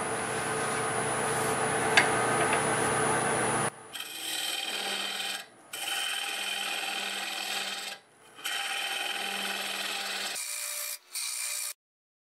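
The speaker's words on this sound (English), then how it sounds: "I'll start hollowing it out now, and I'm going to use my little home-built hollowing tool." Pear wood end-grain bowl with a live edge being hollowed on a lathe at 1200 RPM using a small home-built hollowing tool: loud continuous scraping and rasping in several long passes with short pauses between them, no talk.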